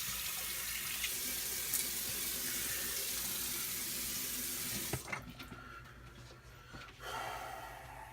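Tap water running into a sink for rinsing after a shave, a steady close splashing hiss that cuts off midway, followed by quieter drips and handling noises.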